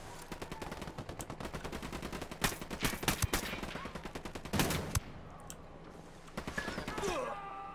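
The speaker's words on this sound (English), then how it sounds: "Don't shoot! Don't shoot! I told you not to shoot! And you did it anyway." Rapid bursts of automatic gunfire crackle through a Ghost Recon: Wildlands firefight, dense rattling volleys with sharper single cracks and a heavy blast midway, loud and close with faint voices underneath.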